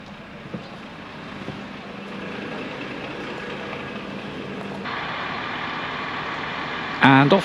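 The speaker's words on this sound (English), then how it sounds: "And off goes Bertie Bus on their way to Cardiff" A Megabus coach pulling away from a stop at Bristol Cabot Circus, heard as a steady low engine rumble that rises in pitch partway through, with a brief louder clatter at the end.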